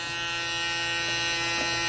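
A JVPro Shadow electric foil shaver runs with a steady, loud, close buzzing drone that holds constant throughout, with no speech.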